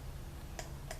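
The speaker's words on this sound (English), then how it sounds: "When you do that in a calculator, you type in" Calculator buttons are pressed to enter a calculation: a handful of quick, faint clicks arrive near the end over a low background hum.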